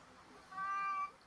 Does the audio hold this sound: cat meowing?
yes